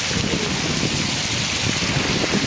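Heavy rain pouring with water rushing past, a loud, steady broadband roar with no clear breaks.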